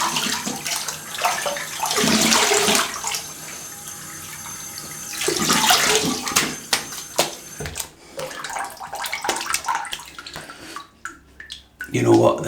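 Cold water runs from a hose or tap during dog grooming, splashing steadily in bursts over the coat, with a person talking quietly between the spells of rinsing.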